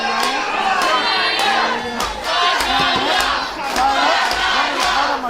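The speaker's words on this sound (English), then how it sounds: "The crowd getting firmly behind 𝗦𝗢 here." Wrestling crowd at a PrideStyle 37 match between Sonico and Taniya cheering and shouting in loud, sustained waves, with rhythmic pulses of chanting and whistles carrying throughout.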